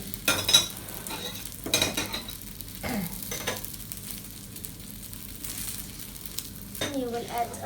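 Lachha paratha, a multi-layered flatbread, frying softly in a pan after being flipped, a low sizzle under intermittent utensil scrapes and clinks against the pan.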